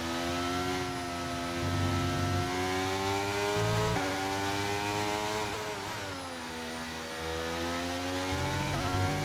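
Simulated Formula 1 race car engine from the F1 23 video game, revving hard and steadily for about nine seconds with repeated rising pitch sweeps as gears change, loud and close with no talking.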